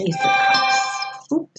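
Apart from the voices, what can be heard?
mobile phone ringtone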